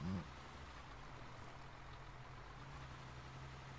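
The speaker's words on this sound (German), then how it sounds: "Ich höre ein Auto." A steady low engine hum of a car idling or driving nearby in the video game Arma 3, with a brief louder burst at the start.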